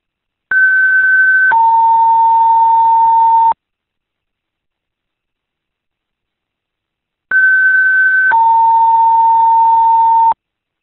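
Fire department dispatch alert tones for a last alarm call, two loud identical sequences, each a higher tone stepping down to a longer lower tone, separated by several seconds of silence.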